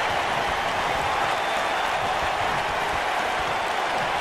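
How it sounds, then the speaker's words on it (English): Steady crowd roar and applause from a wrestling video game arena, a dense continuous wash of cheering that stays loud and even throughout with no voices standing out. "Wow, the crowd's on the edge of their seats."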